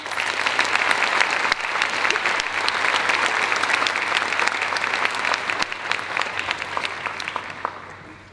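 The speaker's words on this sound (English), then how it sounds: "You guys could please give them all a round of applause." An audience at an awards ceremony breaks into loud, steady applause, a dense crowd of clapping hands sustained for several seconds before gradually tapering off.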